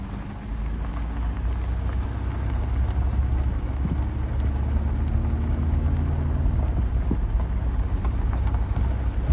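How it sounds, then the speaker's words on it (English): A car driving slowly into a rural property with paddocks and gum trees, a continuous low engine and tyre rumble with crunching gravel close by. "So we're driving into the property."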